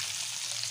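Eggs fry in hot oil with turmeric in a pan while egg biryani is cooked, giving a brief, steady, close sizzling hiss with no talking.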